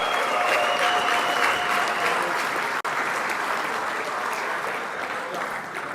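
Sustained audience applause fills the hall at the IFMAR awards ceremony, a steady dense wash of clapping with a brief dropout near the middle and faint overlapping voices.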